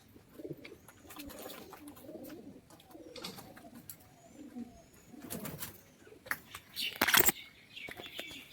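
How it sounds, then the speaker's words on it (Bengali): Several pigeons coo and murmur continuously inside a loft, with wing flaps and a sharp clatter near the end. "আমি পায়রাগুলোকে এখন ঘরে ঢুকিয়ে দিলাম"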